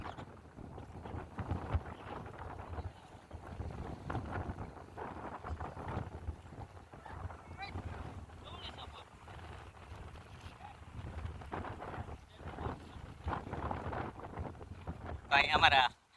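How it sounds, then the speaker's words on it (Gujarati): A large boat rides out at sea off the Gujarat coast, with wind buffeting the microphone in low, gusty rumbles, muffled voices in the background and a sharp crackle near the end. "તો મિત્રો, અત્યારે આપણે બોટ ઉપર છીએ"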